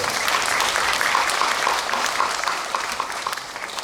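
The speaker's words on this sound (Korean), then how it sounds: "우리 실장님들께도 박수 한번 쳐주시고" Residents at a town-hall citizen dialogue in a Sejong community centre clap for the office directors, brisk crowd applause that stays full, then thins a little toward the end.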